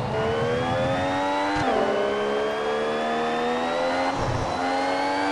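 Formula 1 race car engine in the F1 Mobile Racing game, a loud, continuous high-pitched whine that drops with gear shifts twice, close and alone with no talk.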